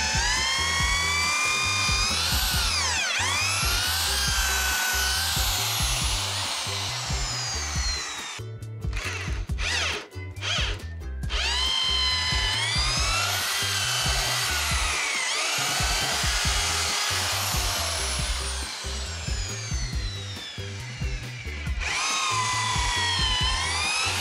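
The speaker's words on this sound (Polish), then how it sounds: "teraz bez problemu mogę to przewiercić" A power drill boring holes into concrete blocks for a terrace, loud and close, with long whining runs broken by short pauses and changes in pitch as the bit bites.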